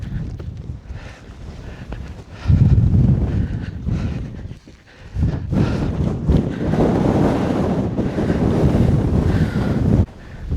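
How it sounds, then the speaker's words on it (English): Strong gusting wind on a mountain ridge hike in the Glyderau, loud roaring buffets hitting the microphone in surges, dipping briefly before blasting again, heard alone without speech. "it's blowing a hoolie up here"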